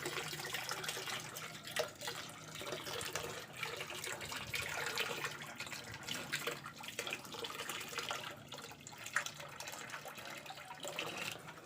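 Water splashes and pours steadily into a catfish tank holding about 200 kilos of catfish after it dried out overnight, a continuous close rushing with small irregular splashes and no talk.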